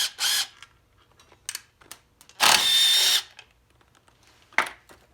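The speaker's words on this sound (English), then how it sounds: "you got to undo all of the outer inner clutch cover bolts" Power tool whirring in short bursts while backing out clutch cover bolts on a dirt bike during a water pump replacement, with one longer run in the middle and small mechanical clicks between.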